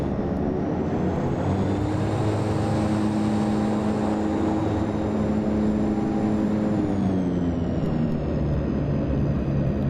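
Twin turboprop engines of a de Havilland Twin Otter seaplane drone in a flight simulator over Alaska near Ketchikan. The steady, humming roar has tonal whine layers that slide lower as power comes off, with no talking.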